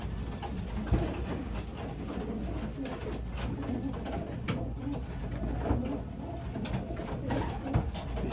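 Racing pigeons cooing steadily in the hen section of a loft, a dense overlapping chorus of soft low coos under constant background hum, with occasional louder calls standing out.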